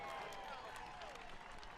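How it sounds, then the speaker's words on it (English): Crowd cheering and clapping at the finish of the Falmouth Road Race as wheelchair racers come in, a steady broadband roar heard from a distance with a voice faintly over it. "You can hear the crowd cheering over there"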